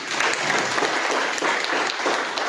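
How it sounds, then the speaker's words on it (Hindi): Seminar audience clapping at a business presentation in Attock: a steady wash of many hands applauding together, fairly loud and continuous throughout, with no speech over it. "तो एक दफ़ा आप तालियां बजाएं"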